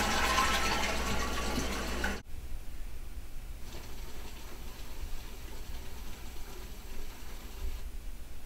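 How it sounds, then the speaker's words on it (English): A 1.6 gallon-per-flush toilet upstairs: a loud rushing flush pours for about two seconds, then stops abruptly and gives way to a steady, quieter hiss of the tank refilling. "then you go upstairs and flush the toilet"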